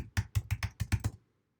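Computer keyboard typing, about eight quick close keystrokes in a rapid burst, then silence.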